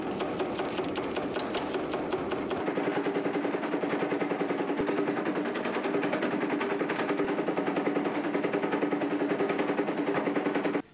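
A metal-shaping machine works an aluminium plate into the curved body panel of a classic BMW, giving a steady, fast mechanical hammering that runs on without pause and sounds close and even.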